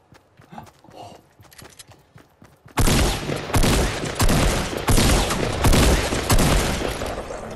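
Rapid bursts of gunfire from an assault rifle and shotgun in Fortnite Battle Royale on PS4, loud and dense, starting abruptly after a quieter stretch and continuing in close, overlapping volleys.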